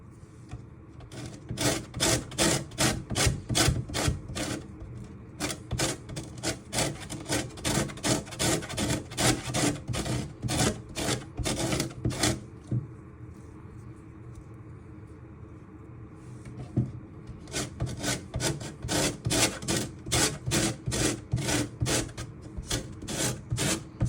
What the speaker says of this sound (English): then we're going to grate some more for our cream.